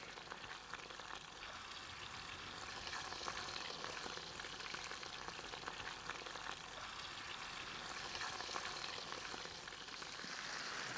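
Fish sizzles steadily in hot olive oil, a dense crackling fry that keeps going without pause and with no talking.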